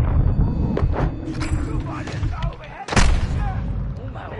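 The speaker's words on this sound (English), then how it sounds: "They throwing grenades and shit?" Grenade explosions and gunfire in the video game Modern Warfare 2: a dense run of booms and shots with one heavy blast near the middle, mixed with people talking.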